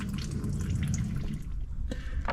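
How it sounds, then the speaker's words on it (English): Water sprayed over the brake bleeder on a 2004 Chevy Colorado front brake, heard as a close, busy hiss and splatter of liquid with a few dripping splashes. "Shooting down my brake bleeder with some water"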